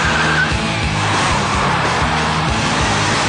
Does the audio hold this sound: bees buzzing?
no